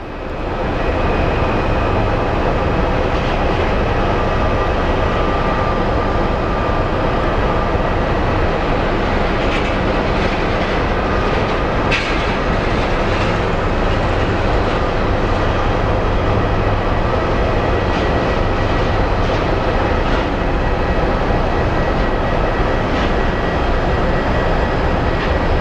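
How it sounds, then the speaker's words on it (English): A San Antonio airliner arriving at Phoenix Sky Harbor, its jet engines giving a loud, steady, broadband roar that holds for the full length with little change. "And here comes our San Antonio flight."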